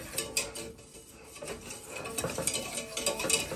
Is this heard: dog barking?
no